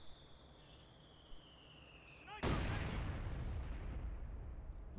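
A mortar in Company of Heroes 2 fires with a sudden loud boom partway through, its roar trailing off over the following seconds above a steady high whine and ambient battlefield noise.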